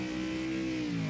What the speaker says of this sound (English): If I put it there and I just rev out